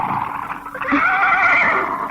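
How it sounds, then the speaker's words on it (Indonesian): A horse whinnies and snorts up close, a loud drawn-out neigh rising and wavering for about two seconds, with no talk. "Yang terdengar hanya suara langkah kuda dan dengis napas kuda."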